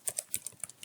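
Computer keyboard keys click in a quick, uneven burst of about eight crisp taps, close and fairly quiet, with no voices.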